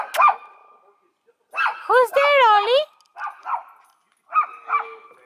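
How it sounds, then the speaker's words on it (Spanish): A dog lets out several sharp barks and a drawn-out whining howl, close by, with short pauses between, and a person speaks briefly. "Le está ladrando gente que está de aquel lado."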